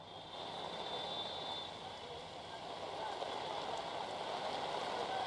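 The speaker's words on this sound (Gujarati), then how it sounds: "ભારે પવન સાથે આ વરસાદ છે તે વરસી રહ્યો છે" Heavy rain driven by strong wind pours steadily over a waterlogged street in Nehru Nagar, Ahmedabad, a dense continuous hiss with no breaks.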